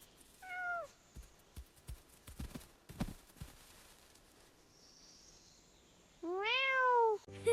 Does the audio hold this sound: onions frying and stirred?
no